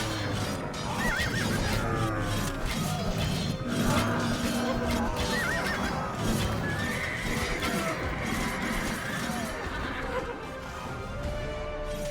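Horses neigh and whinny over pounding hooves in an Age of Empires II battle at the Granicus, with several whinnies rising out of a dense, continuous din of galloping, clashing combat and shouting voices.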